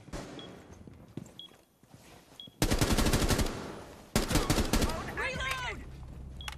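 Bursts of rapid automatic gunfire in the tactical shooter Rainbow Six Siege, two loud sustained volleys after a quieter stretch with faint footsteps, the second burst trailing off under game effects.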